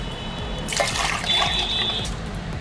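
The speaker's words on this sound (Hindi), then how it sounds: "हम मिक्सी में एक कप पानी डालेंगे।" Water poured into a mixer jar while making peanut butter vegan chai, a brief splashing trickle that swells and fades over about a second and a half with no talk.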